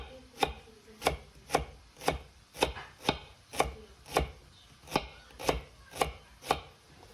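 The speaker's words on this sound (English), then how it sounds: "I'm going to thinly slice some shallots" Shallots are thinly sliced with a knife, giving about a dozen crisp, evenly spaced cuts roughly every half second, close and fairly quiet, with no voices.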